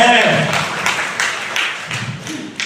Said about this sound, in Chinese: 感谢主，我们将掌声归荣耀给上帝